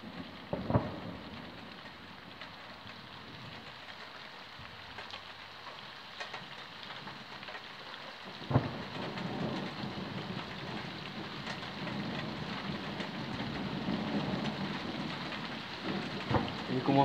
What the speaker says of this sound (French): Il commence à bien pleuvoir là.